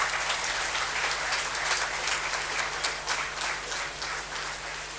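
An audience at an annual prize distribution ceremony applauds, with a full, sustained wash of many hands clapping that stays loud throughout before easing slightly near the end.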